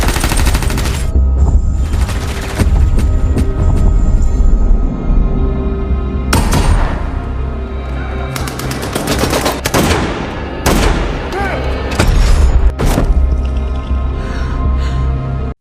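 Gunfire in a film scene: bursts of automatic fire and sharp single shots crack out loudly, separated by short gaps with a rumbling background.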